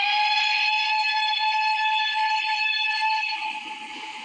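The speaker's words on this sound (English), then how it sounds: "I mean, its whistle sounds different." Toy train engine giving a steam whistle, a steady bright multi-toned hoot held loud for about three seconds before fading slightly at the end, heard alone.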